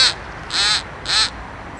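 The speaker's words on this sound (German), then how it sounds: "mit Hilfe dieses Entenlocker, hier, zu tröten und mal gucken, ob die Enten kommen" A handheld duck call blown by the water to draw in ducks gives three short, loud nasal honks in an even rhythm, the first clipped at the start, with quiet pauses between.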